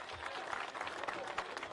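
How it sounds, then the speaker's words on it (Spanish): A crowd in Ivirgarzama, Bolivia applauds to welcome President Luis Arce, a faint, steady spread of clapping with a murmur of voices beneath it. "¡Fuertes aplausos!"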